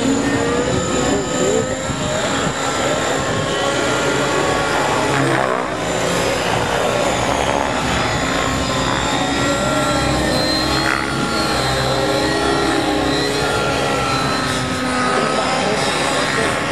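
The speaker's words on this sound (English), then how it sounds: "Jeff finally getting his 700 electric up there in the air." Electric Align RC helicopters, including a 700-size electric model, flying at an IRCHA 2011 demo, giving a steady, loud whine of rotors and motors that shifts in pitch throughout with broad crowd and field noise beneath.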